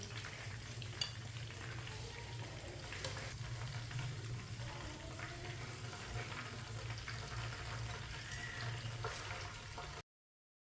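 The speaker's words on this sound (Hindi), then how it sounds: "ये देखिए कितना अच्छा फ्राई हुआ है।" Chicken pieces fry in a pan, a quiet, steady sizzle with light crackles and occasional soft clinks, continuous until it cuts off near the end.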